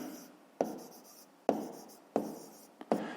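A pen scratches across paper in short handwriting strokes, four or five quick bursts each starting with a sharp tap and trailing off, close and quiet with no voice.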